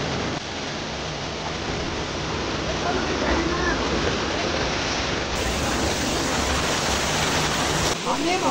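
Water rushing over a dam waterfall in Konkan, a dense, steady roar of broadband noise that stays loud and continuous from start to finish.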